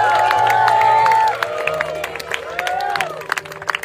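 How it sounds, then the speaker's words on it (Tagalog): Wedding guests applaud and cheer a newly married couple, a lively burst of clapping and whoops mixed with crowd chatter, while tonal music or whistling sounds stand out at the start before the clapping thins into scattered claps. "Let's give them a round of applause."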